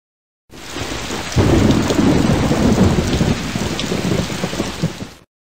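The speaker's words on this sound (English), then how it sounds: "Warm, rainy weather helps plants grow." Rain and a thunderstorm from educational kids' science software: steady, loud rainfall throughout with rolling thunder swelling in after the first second and rumbling on, no voices.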